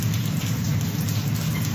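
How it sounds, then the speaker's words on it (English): Heavy rain pours steadily on a morning, a loud, dense, continuous hiss of drops drumming on surfaces with no voices over it. "Boy, is it pouring here this morning."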